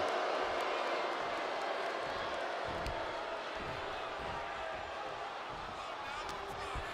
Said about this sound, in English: The roar of this crowd has been building, and they are at a fever pitch right now.